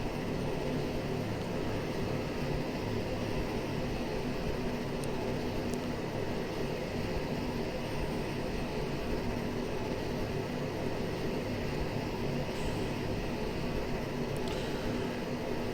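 An Aerosoft Twin Otter plane drones steadily in flight in Microsoft Flight Simulator 2020, a constant, even engine and air noise with faint clicks.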